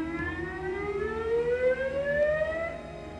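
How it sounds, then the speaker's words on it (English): An outdoor warning siren sounds a rising whoop tone for a chemical accident, a loud wailing sweep climbing steadily in pitch over about three seconds with slight echo. "If a chemical accident happens, an outdoor warning will sound with a whoop tone."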